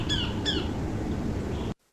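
Two quick high sparrow call notes from a field recording, sharp and close together, over a soft background hiss.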